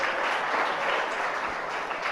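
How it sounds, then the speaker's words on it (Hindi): Steady, dense applause from a seated audience at a Jain religious sermon, continuous hand clapping, moderately loud throughout with no voices over it. "अकलंक कहते तो ताली बज गई"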